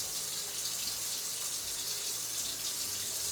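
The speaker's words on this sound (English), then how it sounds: "Rinse my spoon off," A spoon is rinsed under a running kitchen tap, the water pouring in a steady, close hiss without any talk.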